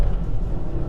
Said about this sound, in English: Let's do a little first gear rip here.